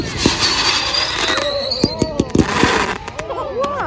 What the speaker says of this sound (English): So it looks like that means the fireworks are coming towards them.